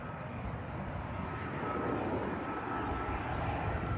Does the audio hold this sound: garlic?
no